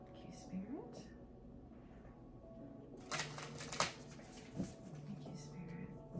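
Angel cards shuffled by hand, a short burst of dense papery riffling and flicking in the middle, soft and close, with quiet talk and low background hum around it.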